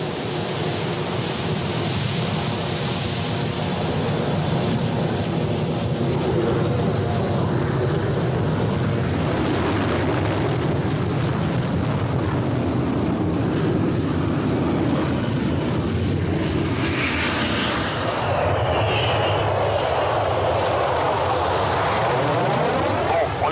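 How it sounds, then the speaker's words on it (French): A fixed-wing aircraft engine spools up for a go-around in a steady, loud roar that holds for over twenty seconds, with a high whine rising near the end. "Ok, remise des gaz."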